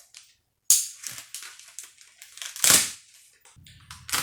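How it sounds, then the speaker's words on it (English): Plastic wrapping on a set of new tires and wheels being cut and pulled off: sharp snapping cracks and crinkly rustling bursts, close and fairly loud, with brief silent gaps and no talking. "I don't know how to get into this plastic. I guess I have to cut it all off"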